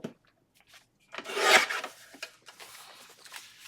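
Paper being cut off the bottom of a handmade garden journal, a single rasping, scraping burst that builds and fades over about a second, with lighter rustles before and after.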